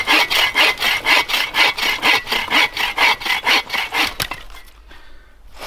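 Hand saw cutting through wood outdoors at a bushcraft camp, about fifteen rapid even back-and-forth rasping strokes, close and loud, stopping abruptly near the end into quiet.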